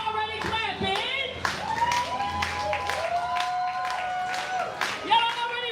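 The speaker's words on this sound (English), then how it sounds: "Y'all are already clapping?" Audience clapping at a Pride open mic poetry night, scattered claps under a voice that talks and sings over it, with some rhythmic taps and brief whoops near the end.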